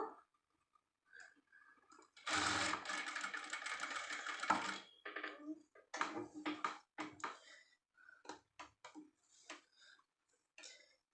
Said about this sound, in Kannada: ಈ ಥರ ಎಡ್ಜ್ಗಳಲ್ಲಿ ಬಂದಾಗ ಮಾತ್ರ ನೀಟಾಗಿ ನೋಡಿಕೊಂಡು ಫಿನಿಶಿಂಗ್ ಯಾವ ರೀತಿ ಬರುತ್ತೆ ಅಂತ ನೋಡಿಕೊಂಡು ನಿಧಾನಕ್ಕೆ ಹೊಲಿಗೆ ಹಾಕ್ಕೋಬೇಕು